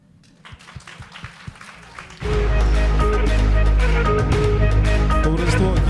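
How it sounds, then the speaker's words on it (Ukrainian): An indoor audience bursts into loud, sustained applause after a couple of seconds of scattered claps and low murmur, the clapping dense and steady to the end. "Анатолій Юліановичу оплеску"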